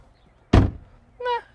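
A frameless door on a 2021 Mercedes-AMG CLA 35 shuts with a single solid, close thunk. A brief tonal sound follows about half a second later.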